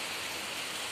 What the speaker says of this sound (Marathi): पण आता आज पहिली बारिश